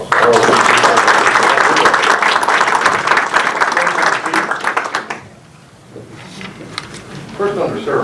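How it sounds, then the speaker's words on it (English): A council meeting audience claps in a loud, dense burst for about five seconds, then the applause fades out and a voice speaks briefly over a quiet room. "Let's have a round of applause."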